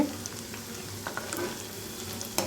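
Cumin seeds for tempering sizzle steadily in oil in a pan for grated raw mango chutney, with soft stirring scrapes and a few light clicks, close and fairly quiet, no talking.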